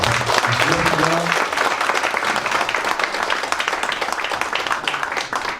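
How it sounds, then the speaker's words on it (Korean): Sustained applause from an audience at a panel discussion for the 50th anniversary of Seoul National University's academy, dense clapping that stays loud throughout, with a brief voice near the start. "오늘 좌담에 참여해 주신 5분께 모두 큰 박수 부탁드립니다"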